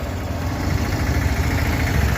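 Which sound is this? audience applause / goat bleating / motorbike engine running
motorbike engine running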